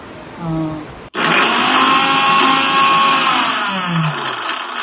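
A kitchen mixer grinder runs loud and steady for several seconds with a whirring motor drone, starting abruptly after a brief moment of quiet voices.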